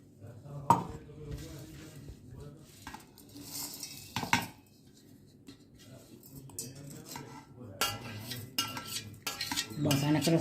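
Metal utensil scraping and knocking in a pan while coarsely crushing samosa filling, a series of irregular clinks and thuds, close and moderately loud, with no talking.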